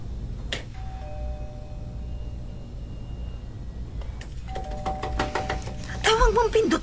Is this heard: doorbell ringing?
yes